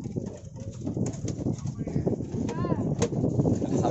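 Domestic pigeons in a rooftop loft in Damietta, Egypt, cooing and shuffling close by, with a brief flutter of wings, under a steady outdoor background.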